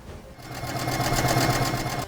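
A sewing machine runs at an in-store demonstration, its needle mechanism whirring in a fast, steady rhythmic chatter close by for about two seconds.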